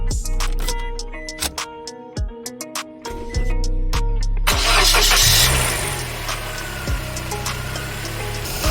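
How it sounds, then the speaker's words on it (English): A 2006 Scion xB with brand-new serpentine belts fires up after a few clicks and ticks, the engine catching loudly and settling into a steady close idle with no squeal. "I'm going to go ahead and start the car."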